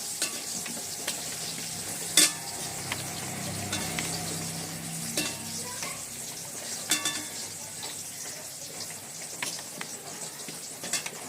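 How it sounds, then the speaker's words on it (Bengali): Potatoes fry in a pan with a steady crackling sizzle, broken by occasional clinks and scrapes of a utensil stirring, one louder knock near the start; no one speaks. "তোমাদের সঙ্গে গল্প করতে করতে আমার আলু ভাজাটাও হয়ে গেল প্রায়"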